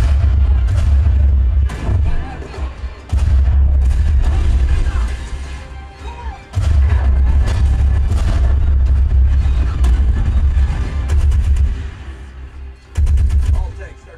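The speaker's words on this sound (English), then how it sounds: "There's a plethora of machine guns and tanks shooting at each other" Machine-gun bursts and tank cannon fire from the war film Fury, heavy booming low-end rumble with repeated loud blasts and rattling gunfire, pausing briefly between volleys, with no talking.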